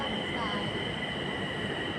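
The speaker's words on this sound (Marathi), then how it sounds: "आणि बघा, ही मेट्रो आली." A metro train pulls in at a quiet station platform, a steady low rumble with a faint high whine running the whole time, and no other sounds on top.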